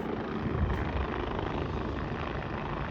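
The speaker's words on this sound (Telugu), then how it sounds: "హెలికాప్టర్." A helicopter flying near Kedarnath temple in Uttarakhand, its steady rotor and engine roar loud and continuous throughout with no pauses.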